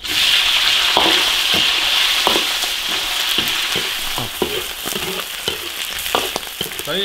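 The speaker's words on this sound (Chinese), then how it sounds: "下鳝鱼爆炒" Eel stir-fried hard in a hot iron wok with oil, a loud continuous sizzle punctuated by repeated scraping clacks of the spatula tossing the pieces, close up.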